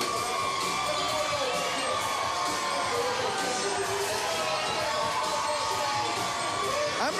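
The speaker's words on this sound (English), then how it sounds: "Crowd is loving this parade." Crowd cheering at a Mobile Mardi Gras parade, a steady dense wash of shouts, whoops and children's voices close by, continuous throughout.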